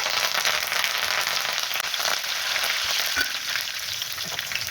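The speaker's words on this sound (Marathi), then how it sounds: "आता ह्यानंतर कढीपत्ता टाकते" Curry leaves hit hot oil already holding mustard seeds, cumin and green chillies for a potato dry vegetable dish, giving a steady loud sizzling and frying crackle close up, with no talking.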